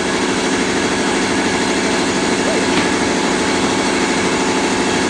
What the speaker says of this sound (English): He's shaving down the mop bucket with a sander so to fit on a bucket that don't fit.